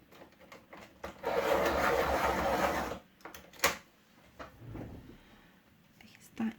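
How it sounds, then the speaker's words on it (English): A grey coloured pencil being sharpened, with a grinding burst of about two seconds, followed by quieter scattered clicks and handling noises. "Let me just sharpen this grey."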